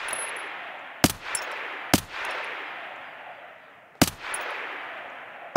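A few sharp bursts of machine gun fire crack out at uneven intervals over a steady background rush, in the video game Escape from Tarkov.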